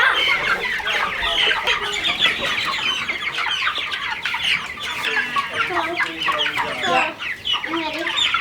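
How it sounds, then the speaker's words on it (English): A dense, steady chorus of young meat chicken chicks peeping and clucking, close and continuous, with no clear pauses. "Here, let's pass the chicks."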